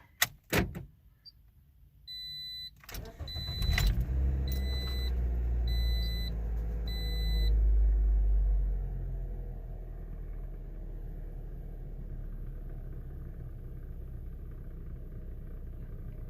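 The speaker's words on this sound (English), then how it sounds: "let's fire this up and see if that check engine light came off" A Toyota Corolla is started after a check-engine light repair: a door thuds, chimes beep, the starter cranks and the engine catches into a surge of revs, then settles into a steady low idle close by, with no talking.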